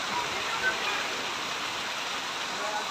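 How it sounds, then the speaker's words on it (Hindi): Heavy rain pours down with rushing water flowing nearby, a dense, steady hiss that stays even and loud throughout. "बहुत ज़्यादा बारिश है, बहुत ज़्यादा बारिश है, बहुत ज़्यादा पानी आता है।"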